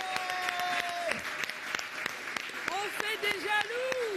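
Audience applause at a French public talk, steady clapping from a crowd running the whole time while a voice speaks over it.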